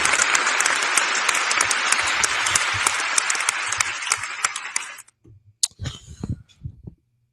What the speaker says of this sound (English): Round of applause to myself for being who I am and being here and rocking hard